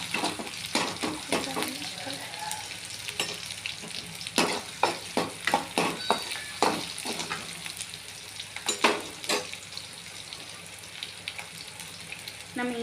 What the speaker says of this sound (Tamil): வெங்காயம் போட்டு நல்லா வதக்கணும். ப்ரௌன் கலர் வர வரைக்கும் நல்லா வதங்கணும்.